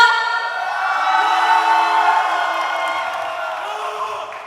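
Youth crowd cheering and whooping at a church worship concert, a sustained wash of voices that swells, holds loud, then slowly fades over several seconds.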